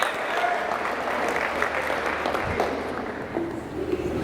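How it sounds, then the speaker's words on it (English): High school audience applauding in a classroom or assembly, an even, full burst of many hands clapping throughout, with a few voices faintly mixed in. "Round of applause."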